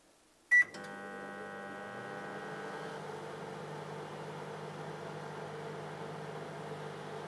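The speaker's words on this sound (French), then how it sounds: "On va tenter le micro-ondes comme j'avais dit en début de vidéo. Alors le micro-ondes est branché, on met en route." Microwave oven of about 1000 watts starting up: a single sharp beep, then a steady low hum and fan whir that runs evenly and fairly quietly for several seconds.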